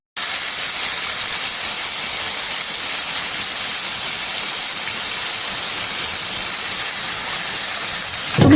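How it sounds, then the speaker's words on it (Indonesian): Sliced shallots frying in three or four tablespoons of cooking oil give a loud, steady, continuous sizzle with no break and no talking. "Goreng sampai matang dengan 3 atau 4 sendok makan minyak goreng"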